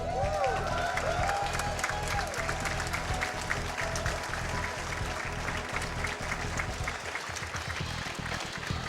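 A large crowd applauds and cheers at SGDQ, the Summer Games Done Quick speedrunning marathon, with steady sustained clapping and scattered whoops filling the room while a voice talks over it.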